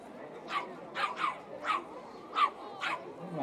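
Newborn puppies at an animal blessing in Mikstat bark and whimper in a run of about seven short, high yips, spaced unevenly and heard up close.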